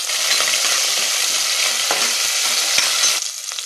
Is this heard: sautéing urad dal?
yes